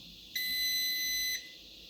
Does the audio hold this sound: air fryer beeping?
yes